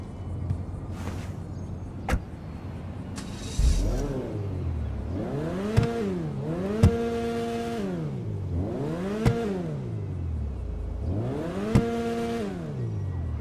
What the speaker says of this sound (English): let's quickly take a listen to the engine sound and the interior too